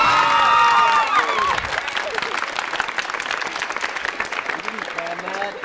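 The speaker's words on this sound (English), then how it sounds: "So Andrew McKernan, I think, deserves a special round of applause." Loud applause from a high school holiday concert audience, with a few shouts and cheers rising from the crowd, gradually thinning over several seconds while voices murmur underneath.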